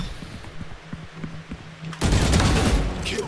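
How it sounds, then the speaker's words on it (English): Gunfire in the shooter Valorant: a few spaced single shots, then a sudden loud burst of sustained automatic fire that fills the remaining stretch, with no voices. "Ye gun sound hai."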